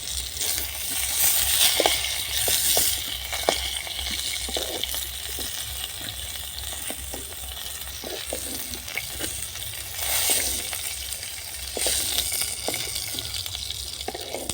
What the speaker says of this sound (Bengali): পটল আলুগুলো লাল করে ভেজে নিয়েছি তুলে নেবো